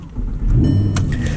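An Audi R8 V10 with a gated manual fires up nearby, a loud, low engine rumble that swells steadily after a brief starter whir and holds a dense idle roar.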